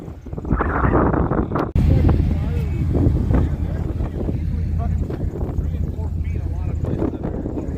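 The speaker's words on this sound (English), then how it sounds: "Man, the wind is blowing here." Strong wind buffets the microphone on a snowy outing near a Jeep, producing loud, gusty low rumbles and rushing noise throughout. A few brief knocks and handling sounds break through the wind.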